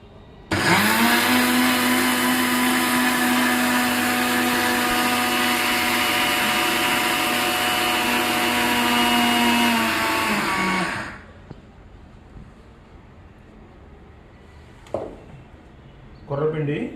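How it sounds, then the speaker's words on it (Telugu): A mixer grinder grinds foxtail millet into flour, a loud steady whirring roar that holds for about ten seconds and then cuts off, leaving faint background noise and a couple of brief knocks. "ఇప్పుడు మనం కొర్రలను మిక్సీ చేసుకుందాం."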